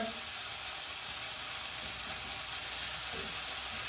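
A pan cooking the base for pork dumplings in broth sizzles and starts to spit a little, with a constant close hiss and faint crackles running evenly through the whole stretch.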